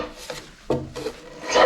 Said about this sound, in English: Right, so it's sanding time.